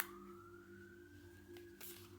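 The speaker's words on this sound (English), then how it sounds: "Responding to some type of emergency with that siren outside." An emergency siren sounds outside, a faint, distant steady tone that slowly rises in pitch, heard over a low hum with a couple of brief soft knocks nearby.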